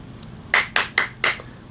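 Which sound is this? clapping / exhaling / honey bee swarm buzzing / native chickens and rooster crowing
clapping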